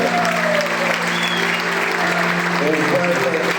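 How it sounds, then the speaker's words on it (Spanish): A church congregation applauding during a service, a thick steady clapping roar lasting throughout, with a sustained tone and a voice sounding faintly beneath it. "Yo quiero que ustedes lo reciban con un fuerte aplauso,"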